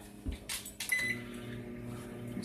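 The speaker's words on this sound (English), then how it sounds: "We're going to put them in the microwave." A microwave oven runs with a steady low hum while heating Easter Peeps and chocolate-covered marshmallow eggs, preceded by a few brief clicks and door or button sounds near the start.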